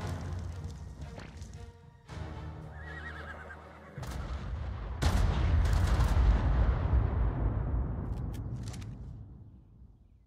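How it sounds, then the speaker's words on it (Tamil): Loud explosive blasts and gunfire-like bursts in the video game ARK: Survival Evolved on the Lost Island map, several sharp impacts with a big boom around the middle that rings out and decays, with animal calls mixed in. "இங்கே கீழே ஒரு பயங்கரமான வெடி சத்தம் கிடைக்குது."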